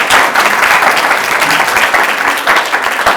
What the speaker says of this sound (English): So another round of applause for Senator Waddell.